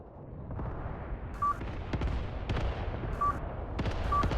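Mortar and gun fire in the WW2 game Mius Front: a dense, rumbling wash of distant explosions and crackling gunfire, with sharp repeated blasts standing out over a continuous battle din.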